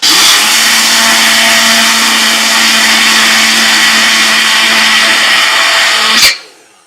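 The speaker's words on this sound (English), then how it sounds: "we're going to blend this up, making sure that your blender, your container, is dry ahead of time" Blender grinding dry grain into homemade flour for sweet potato buns, a loud, steady high-pitched whir with a constant motor hum that runs for several seconds and then cuts off sharply.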